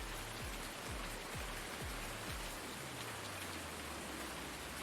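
Steady rain falls in a farming video game, a constant soft hiss with low rumbling thuds underneath, even and unbroken from start to finish.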